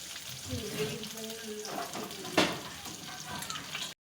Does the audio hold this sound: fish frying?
yes